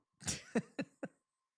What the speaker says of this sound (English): they cough in the mic